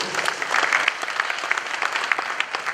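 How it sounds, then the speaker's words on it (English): Applause for a museum director at a formal arts awards ceremony honoring the Asantehene, a steady crowd clapping that runs throughout without a break, fairly loud and close. "Once again, a round of applause for him."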